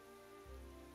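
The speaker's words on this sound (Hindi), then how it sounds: "ओ बारिश" Rain falling in Minecraft, a soft steady hiss of drops on a surface, faint and brief with no voices.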